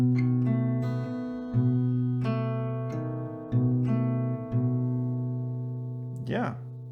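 Acoustic guitar picking a song part slowly, single notes plucked one by one over sustained lower strings, quiet and close, ending with a brief bending squeak near the end.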